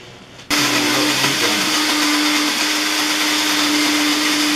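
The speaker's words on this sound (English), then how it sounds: "put this all in the blender and blend it all together" A blender switches on abruptly and whirs loudly and steadily as it purees a garlic wet rub for smoked prime rib. The motor whines at a constant pitch after a brief rough start.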